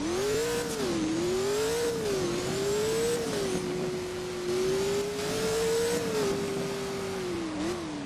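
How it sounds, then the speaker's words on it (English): A car engine in the Driving Empire racing game hums and revs steadily while driving on a road, its pitch rising and dipping with throttle changes, loud and close with no talk. "here is the car driving on the road"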